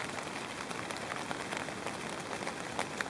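Rain patters steadily on a tent pitched at a summit camp on Beinn na Lap, a dense continuous hiss of drops close overhead with no talk.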